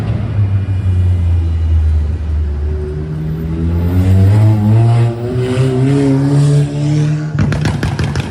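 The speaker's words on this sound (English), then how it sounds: "That guy's car was a little loud." A loud car passes on a rainy Midtown Manhattan street, its engine rising in pitch as it accelerates and revs up close, then fading as it moves off.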